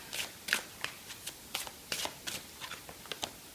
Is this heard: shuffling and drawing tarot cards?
yes